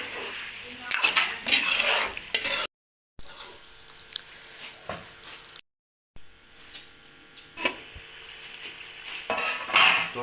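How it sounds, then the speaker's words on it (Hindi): Peas and mutton cook in a pot for matar gosht. A spoon scrapes and clinks against the metal pot while the contents sizzle, with brief gaps of silence between bursts of stirring. "अब मटर को अच्छे तरीके से नरम करेंगे और नरम होने तक पकाएंगे।"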